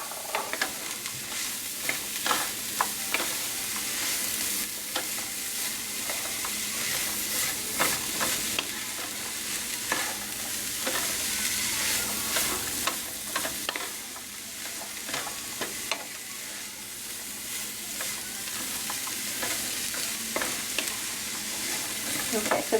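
Carrots being stirred into lumpia filling as it fries in a pan, with a steady sizzle and repeated scraping strokes of the spoon running throughout at close range, with no talking.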